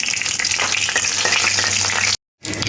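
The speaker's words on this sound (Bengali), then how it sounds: "ফোড়নটা একটু ভাজা ভাজা করে নেব।" Dried red chili and whole cumin seeds sizzle in hot oil for a dal fry tempering, a dense steady crackle close by, cut by a brief silent gap before resuming.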